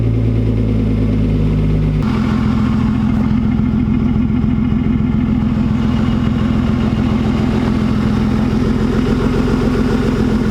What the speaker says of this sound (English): Last thing to talk about, I guess, is the exhaust setup.